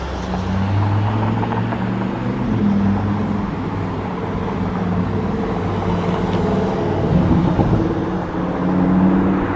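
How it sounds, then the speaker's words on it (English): A McLaren sports car rolls along a busy Toronto street near Cabbagetown, its engine a steady low rumble blended with surrounding traffic noise at moderate distance, without a distinct pass-by peak. "Oh, that was a McLaren, I think, rolling by."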